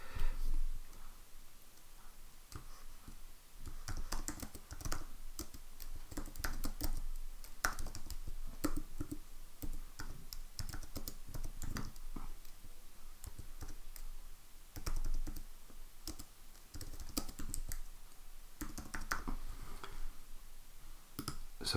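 Computer keyboard typing and mouse clicking while entering feedback in a Microsoft Forms review screen, a steady stream of close, crisp key taps and clicks with short pauses, no talking.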